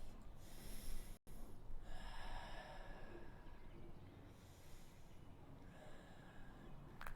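Slow, audible breaths during a yoga practice, soft airy inhales and exhales drawn through the nose in a steady rhythm, close and quiet with no talking.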